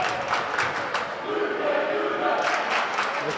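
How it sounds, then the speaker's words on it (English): A high school basketball crowd in a gym chants in unison at the William Tennent side, a steady, dense roar of many voices with rhythmic swells over a few seconds. "The crowd gives a friendly reminder to William Tennant about the rules."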